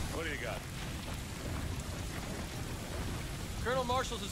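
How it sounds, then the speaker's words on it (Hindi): Heavy rain in the video game Call of Duty Modern Warfare 2 Campaign Remastered, a steady hiss of downpour with low rumbling beneath, while a voice speaks briefly at the start and end. "बारिश भी होने लगी एकदम खतरनाक"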